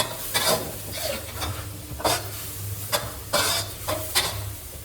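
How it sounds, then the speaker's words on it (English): A Thai eggplant stir-fry with sauce sizzles in a pan while a utensil stirs it, giving several sharp scraping strokes over a steady frying hiss, close and fairly loud. "Stir everything in well and let it fry."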